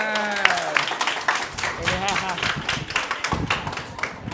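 Hands clap in quick, uneven bursts among lively voices and laughter, the claps mixed in with chatter rather than heard alone.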